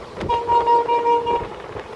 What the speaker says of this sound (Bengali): ট্রেন তার নিজস্ব দুর্বার গতিতে ছুটে চলেছে তার গন্তব্যের দিকে।